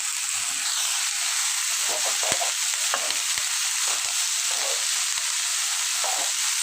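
Cauliflower and potato frying in a pan with salt and ginger, a steady loud sizzle with sharp scraping clicks from a spoon stirring, brief faint voice.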